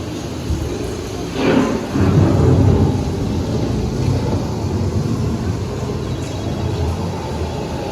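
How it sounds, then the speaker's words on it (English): Thunder from an approaching storm over open land, a low rolling rumble swelling for a couple of seconds then fading into a steady dull background, fairly loud. "The approaching storm may seem violent and destructive to us"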